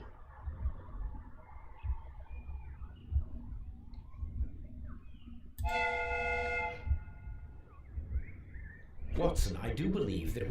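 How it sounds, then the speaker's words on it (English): A steam whistle sounds one sustained, bright harmonic blast of just over a second, rising out of a low mechanical rumble. Voices follow shortly after. "The steam whistle is ready to be used."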